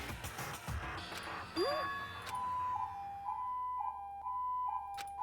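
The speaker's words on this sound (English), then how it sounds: "The siren out of nowhere and gradually grew closer and closer." In the video game Danganronpa 2, a wailing siren rises out of background noise and settles into a steady, repeating electronic tone, growing clearer as it nears.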